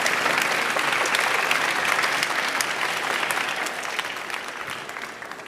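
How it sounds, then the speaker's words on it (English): A conference audience at ChangeNOW 2024 applauds the panel speakers on plastic-free initiatives, with dense, sharp clapping that starts full and gradually tapers off toward the end. "Give them a warm round of applause"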